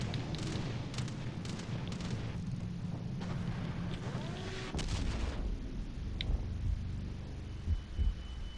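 Warship gunfire and shell hits from World of Warships Legends: low booming rumbles, a sharp heavy impact about midway, then deeper thuds under a constant game hum, with no voices.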